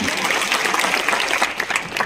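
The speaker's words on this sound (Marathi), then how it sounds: "वाजवा वाजवा टाळ्या वाजवा" An audience applauds during a career guidance talk for students, with loud, continuous clapping that stays close and dense throughout.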